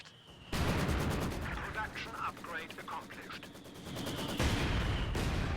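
Rapid machine-gun fire from a Maxim and a G42 trading shots in a Company of Heroes 2 battle, dense crackling bursts running continuously alongside other battlefield noise at steady loudness.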